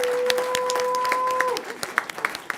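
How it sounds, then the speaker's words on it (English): Applause for students at a school board of trustees meeting, steady group clapping under a sustained electronic tone that breaks off, then thinning into scattered individual claps. "Let's give them a big round of applause."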